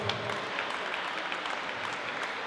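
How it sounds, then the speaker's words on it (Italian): Applause from a crowd at a swimming meet ceremony, a steady dense patter of clapping that runs through the whole moment without a break. "a Giovanni Cullo, facciamo un bel applauso."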